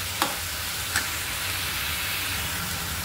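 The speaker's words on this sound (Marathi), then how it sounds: "तर आपण एकदम छान परतून घेऊया" Chopped onion sautéing in a pan for prawn curry, a steady close sizzle and hiss with two faint clicks of a stirring spoon near the start.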